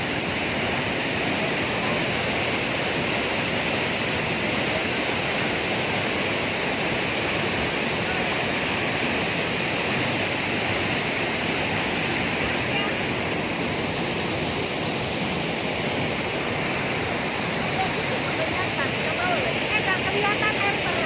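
A waterfall swollen and muddy after rain roars in a constant, dense rush of water, steady and full throughout with no pauses.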